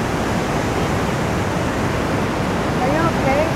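Waterfall with water rolling down, a loud, close, continuous rushing roar that stays steady and unbroken throughout.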